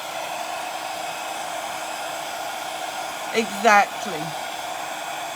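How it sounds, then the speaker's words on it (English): A hair dryer blows steadily on a Posh Chalk decoupage paper planter, a constant close whoosh under a brief spoken word. "before I start putting WoodUBend on the top, I'm just going to dry it a little bit"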